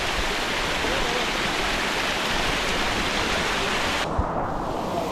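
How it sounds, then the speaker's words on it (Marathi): A waterfall on the forest trail up Surgad fort in the Konkan gives a steady, loud, broadband rush of falling water that carries on unbroken from start to finish. "धबधबा आपण क्रॉस करत चाललोय आता"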